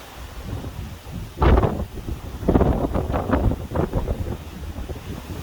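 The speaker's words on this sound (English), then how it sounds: "It's getting windy to say the least" Strong wind gusting across an outdoor churchyard, buffeting the microphone in loud rumbling bursts that rise and fall over several seconds with no talk.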